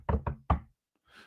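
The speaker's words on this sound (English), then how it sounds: "Knock on wood." Knocks on wood: two quick, solid raps and then a third after a short pause. They are close and alone, followed by a faint rustle.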